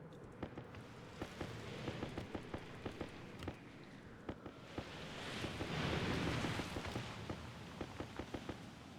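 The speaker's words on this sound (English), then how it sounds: "Oh, I can hear the storm." Storm in the Stationeers video game on Vulcan, with steady rain, repeated sharp cracks of thunder throughout and a swelling rumble midway, no talking.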